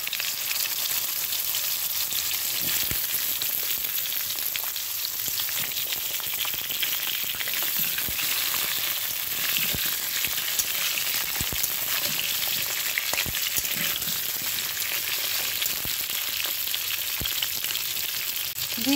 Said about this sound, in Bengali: এবার আমি কাঁচকলা আর আলুটা দিয়ে একটুখানি ভেজে নেব।